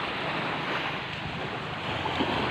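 Sea waves roll in at a beach in San Juan, Batangas, a broad continuous rushing wash mixed with wind buffeting the microphone.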